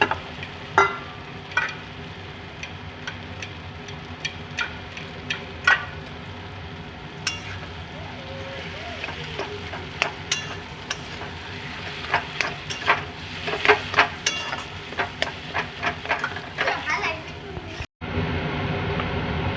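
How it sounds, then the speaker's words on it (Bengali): Potatoes frying in spiced masala in a pan and being stirred vigorously, with a steady sizzle under frequent sharp scrapes and clatters of the spatula that build in density, close up, then a brief cut near the end. "এবার আলুটা আমরা দিয়ে ভালো করে কষিয়ে নিই।"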